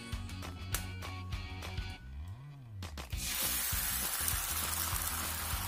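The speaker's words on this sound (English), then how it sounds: "on the same pan, I will fry the eggs without adding any extra oil" Eggs fry in a hot pan with no added oil; after a few clattering knocks, a loud, steady sizzle swells up and continues close by.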